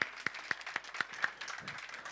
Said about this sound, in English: Please clap for Ane.